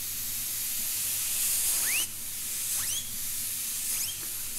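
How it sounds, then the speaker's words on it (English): Short bursts of compressed air blasting a graphics card fan, a steady loud hiss with brief high whirring sweeps as the fan spins up and slows between blasts, close and alone. "I blasted it with some air."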